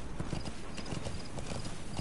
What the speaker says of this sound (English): don't mind the horse, just ride it by